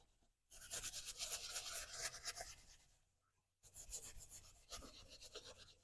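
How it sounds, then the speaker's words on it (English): Brisk scrubbing on Alden leather boots as the finish is stripped off, a close rasping rub in two bursts with a short pause between, no talk. "We're taking that finish off. Don't have to scrub too hard."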